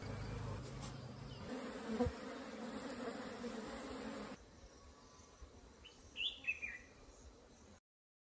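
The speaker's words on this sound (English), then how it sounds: "every hive here is so active and aggressive when you touch them" Honey bees buzz around active hives at an apiary in Kajiado, a faint, continuous hum with a few closer passes near the end.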